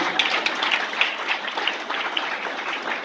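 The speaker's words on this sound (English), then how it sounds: "So a big round of applause for him also." An audience at a Celtic young musicians' competition claps and applauds steadily for a few seconds, a dense patter of hands at moderate volume with no talking.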